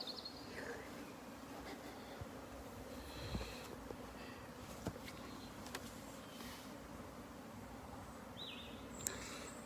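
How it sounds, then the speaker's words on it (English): Bees hum softly and steadily around garden plants outdoors, a faint continuous drone with a few faint bird chirps and light clicks over it. "you can hear the bees buzzing away"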